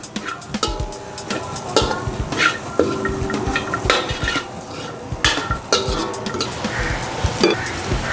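Julienned carrot and boiled green chickpeas sautéing in a pan, with frequent spoon clatters and scrapes against the metal over a soft sizzle.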